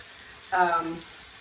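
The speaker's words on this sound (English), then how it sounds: "you want to hear that when you put your meat in the pan" Ground beef hitting a hot pan, a single short burst of sizzle under one second long, close and fairly loud against a quiet background.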